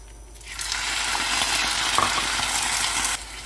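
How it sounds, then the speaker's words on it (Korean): Stir-frying in a little oil in a pan for Korean gimbap filling, then a small amount of water poured in, giving a loud burst of hissing steam and bubbling that holds for about three seconds and then cuts off. "이렇게 볶은 다음에 바로 물을 조금 붓고요."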